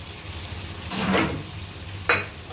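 Dry okra sabzi with fresh coriander being stirred in a pan, giving a faint low sizzle and two brief scraping strokes of the spoon against the metal, close and with no voices.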